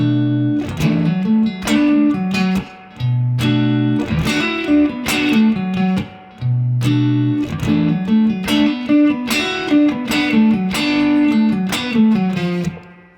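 Blues guitar lick in a minor key played through a 1966 Fender Vibrolux amp, heard as a loud, continuous run of plucked notes with short pauses and sustained bends, with no voice over it.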